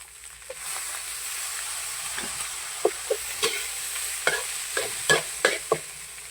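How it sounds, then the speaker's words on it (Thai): Egg fried rice stir-frying in a pan, a continuous hiss of sizzling broken by a series of sharp scrapes and clinks from a spatula working the rice, close and fairly loud. "ผัดไปเรื่อย"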